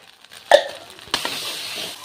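Spiced masala in a pan takes a dollop of tomato ketchup and sugar: two dull clunks as they drop in, followed by a soft, low sizzle close by.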